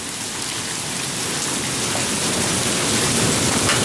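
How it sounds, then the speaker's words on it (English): Hailstorm with heavy rain pounding down outdoors near a farm tractor, a dense, continuous hiss and patter of falling ice and water that stays loud and unbroken throughout. "Oh, that sounds like hail."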